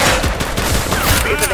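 Rapid gunfire in the police video game The Precinct, a dense burst of loud shots with a brief voice underneath.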